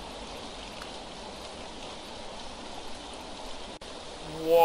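Steady, moderately quiet rain hiss falling in a cemetery in the anime game Fault Milestone One, an even wash of noise with a brief dropout near the end and a rising swell at the close.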